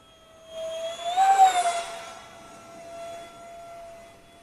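Freewing F-86 radio-controlled jet with a 64mm electric ducted fan on a 3S+ power system, its high whining fan tone rising to a loud surge as it launches and climbs, then settling into a steady, fading whine.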